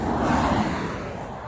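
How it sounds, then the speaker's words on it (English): Road traffic passes beside a busy road in Norfolk as a steady, broad roar that swells and then fades slightly, moderately loud, with no talk. "Yeah, excuse the traffic noise."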